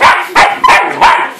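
A dog barks loudly four times in a steady rhythm, close by, with short gaps between each sharp bark.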